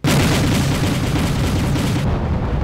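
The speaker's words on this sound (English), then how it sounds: "Here, it's an 85mm cannon." An 85mm cannon on an armored vehicle in the strategy game Wargame: European Escalation fires with a loud, sudden blast followed by a sustained rumbling roar that stays heavy for a couple of seconds before cutting off.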